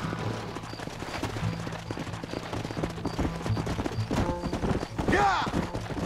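Horses gallop in Red Dead Redemption with a rapid, driving clip-clop of hooves, close and steady. Speech is heard, and a short whinny-like cry rises near the end.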